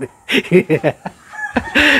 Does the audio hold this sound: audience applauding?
no